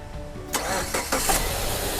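A car engine cranks and catches with help from a 10000mAh 500A jump starter power bank. A brief starter whir turns into a running engine within about two seconds, close and fairly loud.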